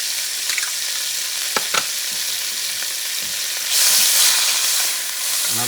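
Sofrito of ají dulce sweet peppers, cilantro and oregano sizzles steadily in a hot pan, with a few clinks of stirring and a brief surge of louder frying.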